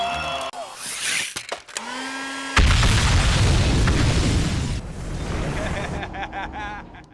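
A house explosion caused by a botched attempt to burn cash erupts as a loud, sustained roaring blast after a few seconds, rumbling on as a broad noisy wash, with a brief tone and talk before it.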